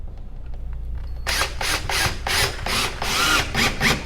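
A screw driven into a wall stud with a power driver: after a quiet moment, a close, loud run of rapid bursts and ratcheting clatter pulses unevenly for a few seconds as the screw bites in.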